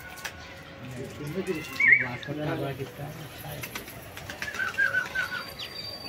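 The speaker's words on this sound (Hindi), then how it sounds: "फाइनली कबूतर उड़ गए।" Fancy pigeons in Hyderabad take off with bursts of flapping wings that rise and fade, mixed with soft coos and outdoor crowd noise as people talk nearby.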